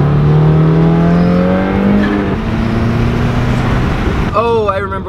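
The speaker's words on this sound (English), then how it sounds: "there's a car behind me" A Subaru WRX engine hums close by, its pitch rising and falling as the car passes, with a brief squeal near the end.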